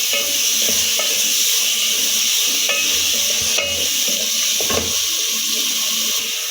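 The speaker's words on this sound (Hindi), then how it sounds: "इनको भी हमने मसाले के अंदर तकरीबन 4 से 5 मिनट तक भून लेना है।" Green beans fry and sizzle in a spice masala over medium flame, a steady loud hiss punctuated by the scrape and clatter of stirring in the pan.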